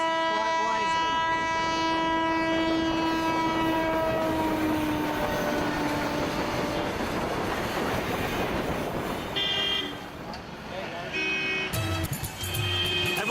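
A train rumbles past a level crossing at close range with a long, loud horn blast, followed by clanking wagons and bell-like crossing signals near the end.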